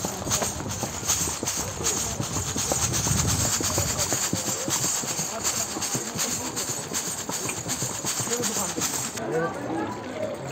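Horses clip-clop along a mountain path near the Shiv Khori temple at Katra, a continuous patter of hooves with steady background noise, while people talk nearby.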